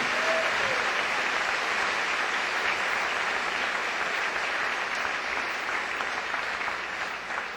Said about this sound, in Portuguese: Você vai dar um forte aplauso